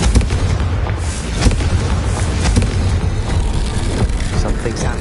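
Confringo blasting spell going off in a wizard video game, a dense, loud rumbling blast with booming bursts over a sustained low roar, continuous for several seconds.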